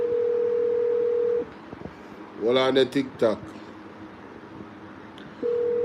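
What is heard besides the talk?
phone call dial tone and busy signal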